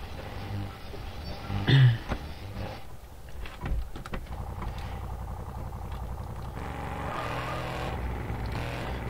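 A car pulls away and drives off, its engine rising briefly and then settling into a steady rolling rumble with some road and wind noise.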